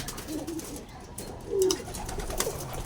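A breeder racing pigeon of the Stillman line gives soft, low cooing calls, faint and close by, with a few brief coos over quiet background noise.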